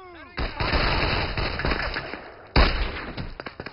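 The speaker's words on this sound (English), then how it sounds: "You have to put some fire on them." Gunfire from the Brothers in Arms video game comes as a sustained, loud rattle of automatic fire, then a brief break and several sharp, separate shots up close.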